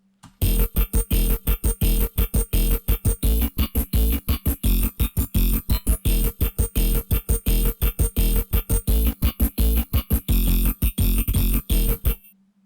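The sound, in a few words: layered synthesized dubstep bass sound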